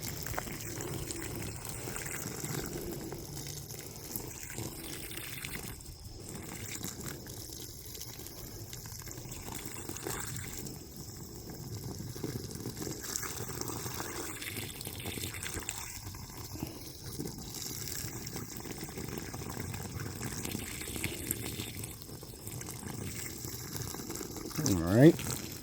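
Water poured over cheap $20 bug out bags, one with a small flap in front that catches water, giving a long, quiet stream of splashing and trickling with shifting intensity and a brief louder burst at the end.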